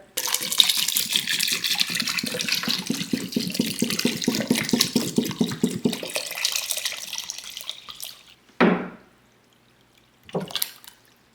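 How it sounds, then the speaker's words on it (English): Tap water poured from a jug outdoors, a steady broadband splashing pour that runs for about eight seconds, then a short louder splash and a brief final trickle, with no talking. "this isn't special water, it's just tap water that I've brought out here in a jug"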